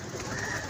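A pigeon coos softly while held in the hand, one short low throaty call heard up close.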